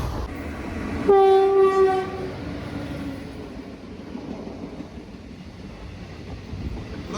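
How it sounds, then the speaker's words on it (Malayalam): Kollam–Nagercoil passenger train passing, a loud horn blast for about a second near the start, then a steady rumble of the rolling train fading gradually, with some wind buffeting the microphone. "കൊല്ലം നാഗർകോവിൽ പാസഞ്ചറാട്ടോ പോകുന്നത്."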